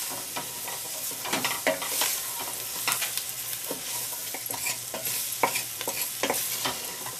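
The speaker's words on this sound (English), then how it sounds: "you mix it in with the roux" Celery, onions and peppers stirred into a plant-based, gluten-free gumbo roux, with a busy sizzle under repeated scraping spoon strokes in an uneven rhythm, close and fairly loud.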